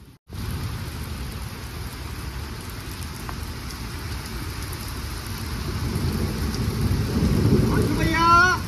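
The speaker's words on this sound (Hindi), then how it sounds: "लगातार बारिश हो रही है" Heavy, steady rain pours down continuously during flooding in a Jammu and Kashmir village, a dense roar of drops that grows slightly louder toward the end, with some faint chirps near the close.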